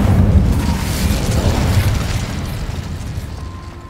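A loud, roaring burst from the Incendio fire spell in Hogwarts Legacy, a dense fiery blast that holds strong for a few seconds, then slowly thins and fades.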